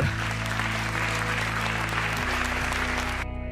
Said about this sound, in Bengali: আপনারা নিজেদের জন্য একটা জোরে করতালি দিতে পারেন